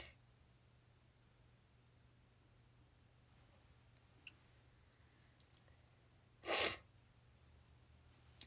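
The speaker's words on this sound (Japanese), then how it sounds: "くしゃみでさ、笑わないでもらえますか" A single sharp sneeze bursts out in an otherwise quiet room, brief and close, with faint ticking in the background before it.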